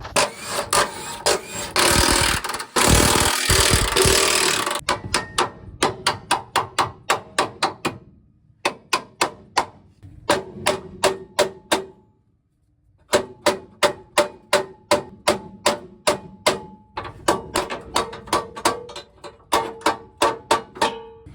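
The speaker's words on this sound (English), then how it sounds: "Then I'm going to take these through bolts out." Through bolts with 18 mm and 21 mm heads come out of a third-generation Cummins truck during a clutch job, as a long series of rapid rhythmic ratcheting clicks in bursts after a louder mechanical rumble, close and clear.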